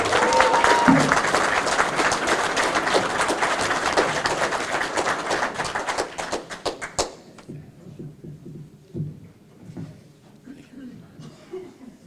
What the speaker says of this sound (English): please offer a round of applause